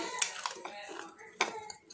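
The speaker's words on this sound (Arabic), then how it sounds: "شايفين وهي حتى بتقطم بتقرمش ازاي" Crisp bites into a crunchy homemade snack of flour and egg, a few sharp crunches followed by brief chewing, close to the microphone.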